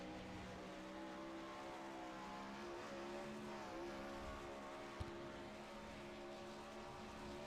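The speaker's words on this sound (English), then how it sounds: "waiting for this one car to get off the racetrack" A lone dirt race car at Lanier circles the racetrack for a 410 outlaw series event, its engine droning steadily at a distance with a faint, even tone and one brief click near the end.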